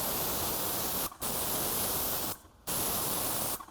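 Enamel spray paint hissing from a sprayer onto a house exterior, steady broadband hiss in three long bursts separated by brief pauses, close and loud with no talking.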